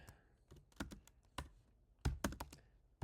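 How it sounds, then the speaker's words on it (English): Bursts of rapid keystrokes on a computer keyboard, close and crisp, clustered in quick irregular runs with short pauses between them. "I bet you watching me typing is so much fun"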